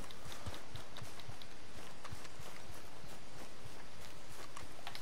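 Horse hooves in Red Dead Redemption 2 clip-clopping in a fast, steady gallop rhythm over a dense, noisy outdoor game background, no clear talking.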